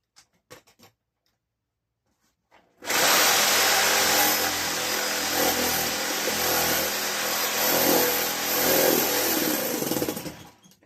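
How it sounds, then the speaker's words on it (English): A Sawzall reciprocating saw cutting through a tire, starting abruptly after a few quiet seconds with light handling clicks, then buzzing loud and continuous with rough, rasping variation until it stops. "And the Sawzall blade will ride right in between."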